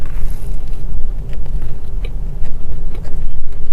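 Close-miked, loud ASMR mukbang bites and chews of a Crumbl cookie, with repeated moist, crunchy crunching and smacking in an uneven rhythm and no talking.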